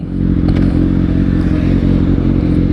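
Heavy midday road traffic rolls past a waiting motorcycle rider, a loud, continuous engine rumble with faint clatter and scraping throughout, close by and without talk.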